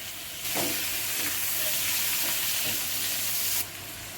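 Onions frying in an iron kadai, cooked for okra masala, give a loud broadband sizzle that swells at the start, holds steady with scraping stir sounds, then drops back near the end.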